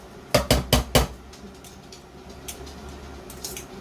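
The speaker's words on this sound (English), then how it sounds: "all we're going to do is throw our pasta in" Dry pasta tossed into a pan for a quick chicken lunch: four sharp, evenly spaced clattering hits land in quick succession near the start, followed by fainter scattered clinks and a low kitchen hum.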